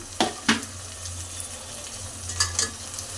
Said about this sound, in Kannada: ಟೊಮೊಟೊ ಹಾಕ್ಬಿಟ್ಟು ನೋಡಿ, ಈ ಥರ ನೀಟಾಗಿ ಚೆನ್ನಾಗಿ ಎಣ್ಣೆಯಲ್ಲಿ ನಿಧಾನಕ್ಕೆ ಫ್ರೈ ಮಾಡ್ಕೋಬೇಕು.